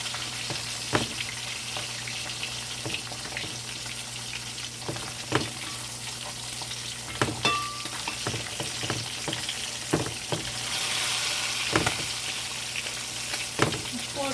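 Fish and dumplings fry in a pan with a steady, close sizzle, broken by occasional clicks and taps of utensils.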